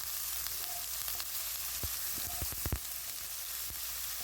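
Garlic sautéing in a hot pan, a steady soft sizzle with a few sharp crackles and utensil taps, no voices.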